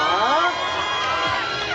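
A large outdoor concert crowd at a night event by Gwangalli beach in Busan cheers and shouts loudly, a dense roar of voices with excited squeals rising over it, continuous throughout.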